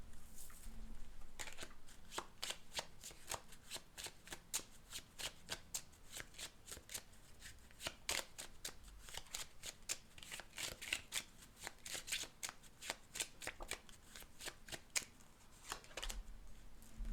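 Tarot cards being shuffled for a cartomancy reading, a long run of quick, crisp riffling snaps repeating steadily and close up, with no talk over them.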